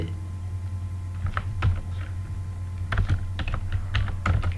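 Computer keyboard typing code, irregular clusters of close, crisp key clicks over a steady low electrical hum.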